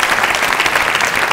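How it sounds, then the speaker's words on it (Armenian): A television studio audience breaks into applause, a loud, close, continuous burst of many hands clapping together that lasts just over a second. "ես առաջարկում եմ ծափարենք"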